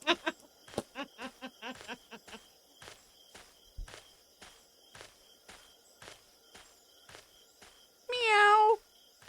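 A cat in the video game Gabriel Knight 3 gives one clear, loud meow near the end, following a steady series of soft taps and footstep-like knocks.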